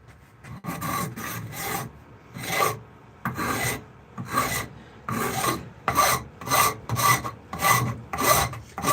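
The bowl of a hand-forged steel spoon is ground out with quick, close rasping strokes, about a dozen of them in an uneven rhythm, growing faster and more regular toward the end.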